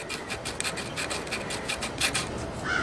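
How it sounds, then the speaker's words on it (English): Fine abrasive sanding of the ignition points in the small gap of a Briggs and Stratton engine, a steady rapid back-and-forth rasping scrape, close and continuous for a few seconds. "I sand it back and forth over and over and over in that little gap."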